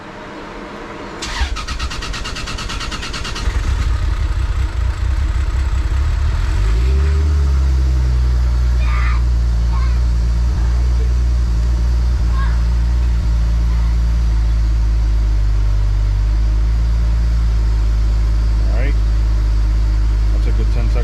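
A car that has sat unused for two months cranks, fires up on a dyno and settles into a loud, steady idle, with people talking over it.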